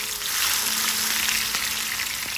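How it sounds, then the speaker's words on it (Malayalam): Eggplant pieces frying in hot coconut oil in a Kerala kitchen, a steady close sizzle and crackle that runs without a break. "കോക്കനട്ട് ഓയിൽ ചൂടായി കഴിയുമ്പോൾ വഴുതനങ്ങ ആഡ് ചെയ്യാം."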